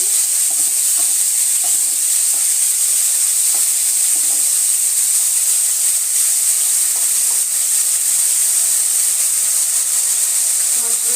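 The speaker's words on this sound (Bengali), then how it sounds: "আমি হালকা করে এই মাশরুমগুলোকে একটু ভেজে নেব।" Mushrooms fry in a kadai over a medium flame with a constant, even bright hiss of sizzling oil and faint occasional stirring ticks, with no talk.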